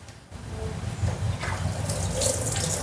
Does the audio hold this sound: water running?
yes